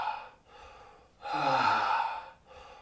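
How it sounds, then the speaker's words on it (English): Deep, audible breathing during an exercise session: slow breaths with a long, loud, raspy exhale in the middle, quieter breaths before and after, close and without talking. "make a little bit of sound so that you can hear yourself breathing"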